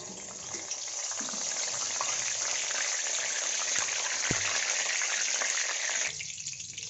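Curry leaves sizzle steadily in hot oil at the start of cooking misal, a close, even crackling hiss that holds for several seconds before easing slightly.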